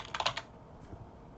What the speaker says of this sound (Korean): 키보드의 탭키를 이용해서 다음 인수 넘어가셔도 돼요